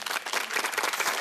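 An audience at a talk-concert lecture claps together, a brief, quick flurry of individual claps blending into a lively round of applause heard from a moderate distance.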